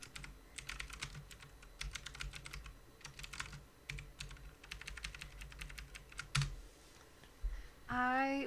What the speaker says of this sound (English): I'm gonna type that in there.